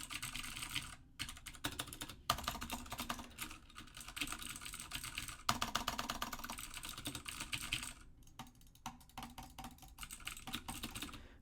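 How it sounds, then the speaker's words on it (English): Rapid typing clatters on a Vortex Poker 3 keyboard with Cherry MX Green switches, giving dense, crisp clicky keystrokes in uneven bursts with brief pauses, close and alone without talk. "that is the Vortex Poker 3 with cherry green switches"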